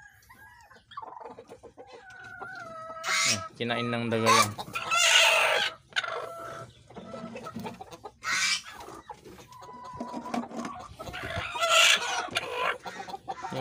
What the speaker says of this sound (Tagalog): Pero hindi naman napapabayaan yung aking mga manok.